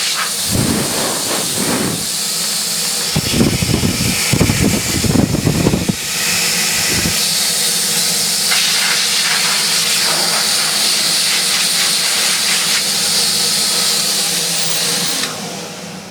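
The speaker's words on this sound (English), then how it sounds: "there's more air leaking out the back of this Henry hose." Steady broadband hiss of air escaping from a leaking Henry vacuum hose fitted to a refurbished vintage Electrolux XII (Model 12), loud and continuous after a few brief knocks and handling noises at the start.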